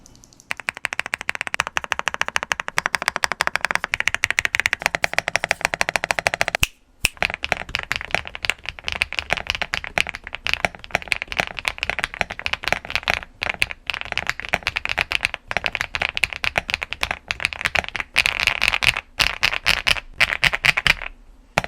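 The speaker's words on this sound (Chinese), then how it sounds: "来自惠木星的定位板是 FR4 玻璃纤维的材质，为的都是要呈现一种清脆的打字音" Fast typing on an EVO 80 mechanical keyboard with light blue switches and an FR4 fiberglass plate: dense, crisp clacking keystrokes, loud and close, running continuously apart from a short pause.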